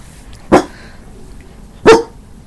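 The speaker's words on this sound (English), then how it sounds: "There's dogs barking outside, so he's barking back." A dog barks twice indoors, two loud separate sharp barks about a second and a half apart over quiet room tone.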